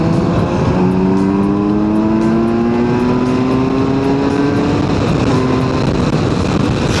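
A Kawasaki Versys motorcycle cruises fast on an expressway in sixth gear, its engine droning loudly and continuously with a slowly rising pitch, wind rushing throughout and no talking.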